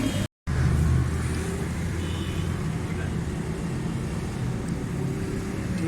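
A pickup engine runs close by after repairs for a misfire and a fuel problem. It is a steady, continuous rumble with only a momentary dropout near the start, and no talk is heard.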